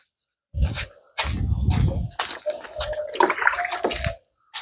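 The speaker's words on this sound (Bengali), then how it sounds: "তো জল আমি দিয়ে নিচ্ছি সব গাছগুলো সুন্দর করে" Garden plants being watered in the morning, water gushing and splashing in irregular bursts over about four seconds, close and loud, with short gaps between pours.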